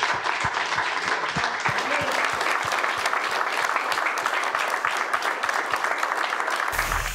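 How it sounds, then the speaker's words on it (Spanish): An audience at a sports club event applauds loudly and without a break, a dense, steady wash of clapping from a close crowd that cuts off abruptly at the end. "Un aplauso grande."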